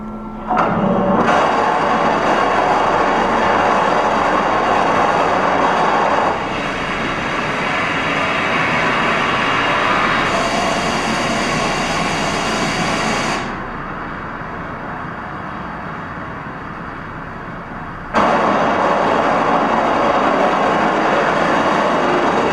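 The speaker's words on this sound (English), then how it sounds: "So that was our first test flight in November." A Rocket Racing League rocket plane on a test flight gives a loud, sustained broadband roar lasting over twenty seconds, shifting in intensity as it drops and then surges back.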